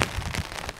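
Rain falls steadily outdoors on a wet summer day, a dense patter of drops striking nearby surfaces and the camera itself, continuous and fairly close with no voices.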